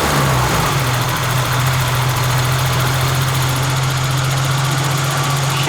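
A BMW E30 engine, just fitted with new parts, fires up and settles into a steady, loud idle with a low, even drone and constant vibration, heard close by with no voices.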